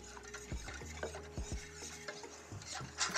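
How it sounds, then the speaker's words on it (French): A spoon or whisk stirs milk into a thickening béchamel sauce in a pan, making rhythmic scraping strokes with a faint sizzle underneath, close and fairly quiet, no voices. "Et je vais mélanger jusqu'à ce que ça épaississe"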